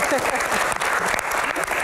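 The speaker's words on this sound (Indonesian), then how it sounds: "Tepuk tangan" Audience at an Indonesian Q&A event on the Minister of Manpower applauding, a steady dense patter of clapping hands filling the room with a voice talking over it.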